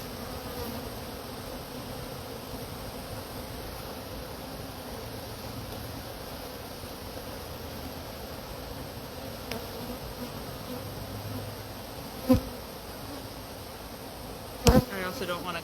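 Honey bees buzzing around a hive, a dense continuous drone of many insects with a few brief knocks and clicks, steady and fairly faint with no speech.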